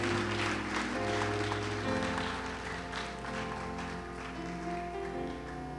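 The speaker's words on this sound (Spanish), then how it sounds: "eso merece un fuerte aplauso" Strong applause from a church congregation during a sermon and Bible study on Ephesians 6, a steady wash of clapping layered over sustained organ-like music tones, without talk.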